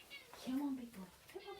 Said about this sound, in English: that's the cat coming.